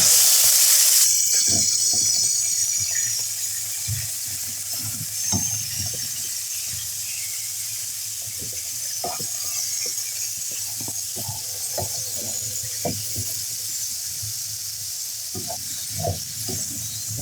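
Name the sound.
chicken sizzling in ghee in a pan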